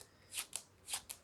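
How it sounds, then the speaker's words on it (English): A deck of playing cards being shuffled, taking one card from the top and one from the bottom, in soft, quick riffling swishes in two pairs, close and quiet. "we are just going to take one card from the top and one card from the bottom and shuffle these cards"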